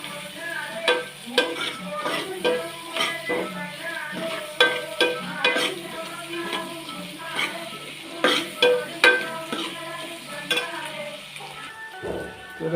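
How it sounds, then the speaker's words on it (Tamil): Ingredients sautéing for Chettinad chicken kulambu, with a soft sizzle under repeated rhythmic stirring scrapes and light metallic clinks from a spoon against the pan, while music plays throughout. "நல்லா செவர அளவுக்கு இதை வதக்கணும்"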